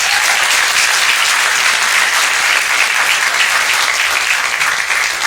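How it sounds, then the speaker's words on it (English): Sustained, loud applause from a crowd at a high school cross-country team banquet, steady and dense throughout with no talking over it. "So let's please give him a round of applause."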